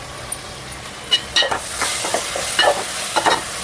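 Spices are stirred into tomato, coriander and mint frying in a pan, with a steady sizzle under repeated scraping strokes and occasional light clinks, close and fairly loud.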